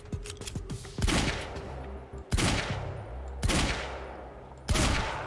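A shotgun fires four times in Quantum Break, each blast a loud booming crack with a long decaying tail, spaced about a second apart, with a few lighter rapid shots at the start.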